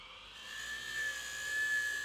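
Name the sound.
lathe turning off rough edge of tiny bowl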